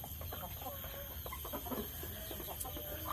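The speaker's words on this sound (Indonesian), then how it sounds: "Ayam-ayamnya." Chickens cluck in a coop hung with plastic curtains and rope, scattered soft clucks and murmurs from several birds at close range over a steady background hum.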